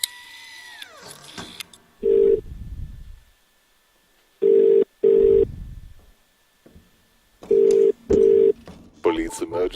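Telephone tones in The Cat Lady: a rising electronic tone, then short loud dial beeps in pairs and singles separated by quiet gaps, ending with a brief flurry of higher tones.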